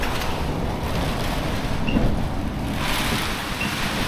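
Strong storm wind during Storm Eowyn, a continuous loud roaring rush outdoors that swells and eases slightly, with no talk.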